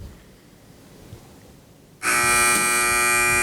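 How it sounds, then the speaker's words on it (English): A quiz-match answer buzzer sounds abruptly after a quiet stretch, a loud, steady electronic tone that holds without a break to the end. "wait for the buzzer if you'd like to answer"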